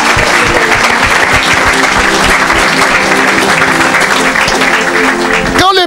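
A congregation at an evangelical church service applauds for Jesus: loud, sustained clapping from many hands fills the room before cutting off abruptly at the end.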